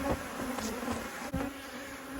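Agitated Buckfast honey bees swarm close around a beekeeper's head during a hive inspection, making a dense, steady, loud buzz with individual bees whining past.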